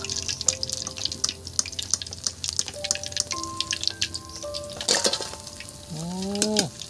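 Hot oil dripping and trickling off freshly fried crispy Bengali lote (Bombay duck) fish lifted from the pan, a steady patter of small close drips over faint sizzling, with no one talking.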